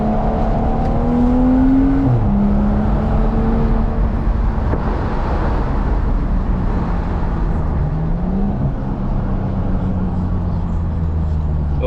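BMW 535i with a 3-inch single exit exhaust driving in traffic, a loud continuous engine drone heard from inside, with pitch rising and shifting as it accelerates and changes gear.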